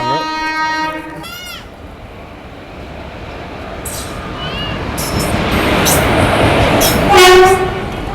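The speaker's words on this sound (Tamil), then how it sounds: "உங்களோட ட்ரெயின் வந்து வந்துகிட்டு இருக்குங்க." A train horn sounds at the start, then a train rumbles and clatters in as it pulls into a station, its horn blaring again near the end; a voice speaks over it.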